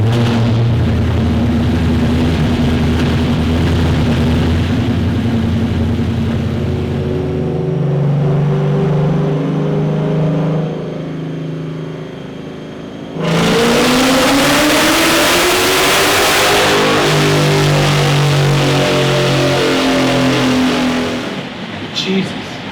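The Steeda Silver Bullet 2.0 car revs hard on a dyno, its engine climbing through rising pulls with a loud, near roar. A brief dip comes before a second surging high-rpm run, and it ends as the engine winds down.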